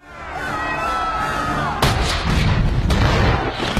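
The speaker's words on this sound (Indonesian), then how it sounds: "Barbossa langsung saja menembaki mereka dengan meriam" Heavy cannon fire exchanged between sailing ships in a pirate film battle: a sustained low rumble, then two sharp, loud booms about a second apart, each followed by a rolling roar.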